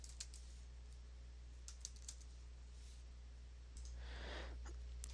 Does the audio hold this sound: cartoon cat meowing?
no